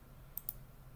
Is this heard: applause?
no